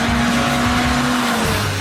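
A JDM Honda Civic Type R accelerating hard up a hill on a track, its engine a loud steady droning howl held close for the whole moment, with a slight pitch drop near the end and no talking.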